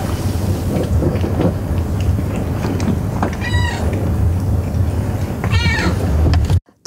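Several cats in a crowded cat cafe let out a couple of clear, drawn-out meows over a low, rumbling room background, with soft shuffling and movement sounds between the calls.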